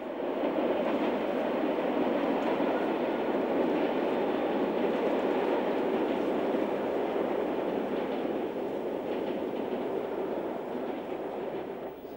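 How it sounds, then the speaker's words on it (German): A class 218 diesel locomotive hauls a stopping passenger train across a canal bridge 42 metres high in Schleswig-Holstein, a continuous even rumble of engine and rolling wheels that holds steady for the whole stretch. "Da wirkt die 218 mit ihrem Eilzug in 42 Metern Höhe doch irgendwie verloren."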